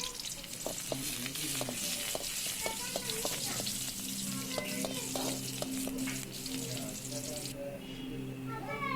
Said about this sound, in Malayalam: ചീഞ്ചട്ടി ചൂടാക്കി ഉള്ളിയും 2 മണി ഉലുവയും വേപ്പിലയും ഇട്ട് നമുക്ക് നന്നായി മുരിച്ചെടുത്ത്